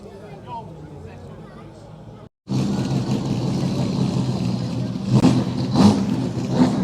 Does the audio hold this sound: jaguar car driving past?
yes